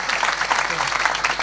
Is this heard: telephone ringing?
no